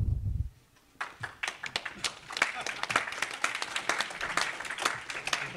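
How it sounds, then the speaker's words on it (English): Scattered audience clapping at a Silicon Valley venture capital panel event, starting after a brief pause with distinct individual claps building into moderate applause, with a voice briefly at the start. "Your spontaneous applause"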